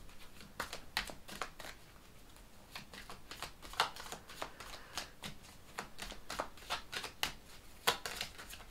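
Tarot cards being shuffled by hand at close range, a steady run of crisp riffling clicks and soft slaps with no one talking.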